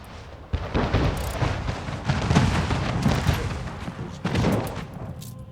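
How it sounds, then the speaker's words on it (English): Naval gunfire from warships in Anno 1800, a dense fusillade of booming cannon shots rolling one after another, loud and continuous with a couple of sharp new volleys partway through. "Guns blazing."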